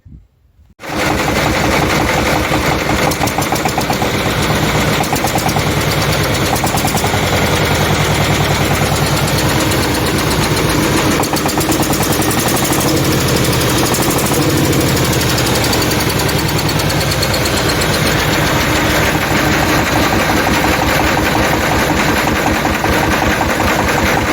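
After a brief silent start, a loud 17.5-horsepower ZTS tractor engine chugs steadily with rapid knocking pulses, running continuously close by at a constant pace.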